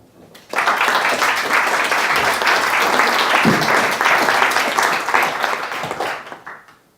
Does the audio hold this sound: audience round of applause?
yes